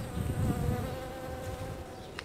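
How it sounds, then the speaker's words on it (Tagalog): A bee buzzes close by with a steady droning hum that rises and falls slightly in loudness, continuous throughout with no voices. "Natusok ang tusok ng bubuyog, namamaga."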